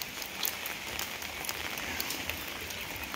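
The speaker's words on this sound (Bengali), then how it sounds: "কি বৃষ্টি পড়তাছে, অনবরত বৃষ্টির মধ্যেই আছি।" Continuous rain falls steadily on an open outdoor surface, a dense, even hiss with scattered louder drops tapping close by, no voices over it.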